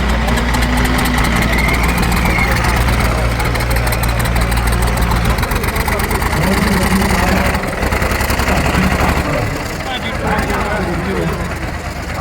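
Loud, steady diesel engine idling with a low, throbbing rumble close by, while people talk over it.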